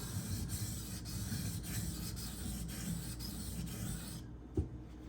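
Steady rasping rub of an Esee Izula II knife blade stroked across a 1K whetstone, continuous back-and-forth scraping at close range, ending abruptly with a single small knock.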